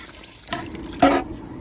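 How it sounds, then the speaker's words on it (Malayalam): Two short splashes of water being poured into a pot of rice, the second louder and fuller, against a quiet background. "ഇതിപ്പം രണ്ട് പാത്രം വെള്ളമാണ് ഒഴിച്ചു കൊടുക്കുന്നത്"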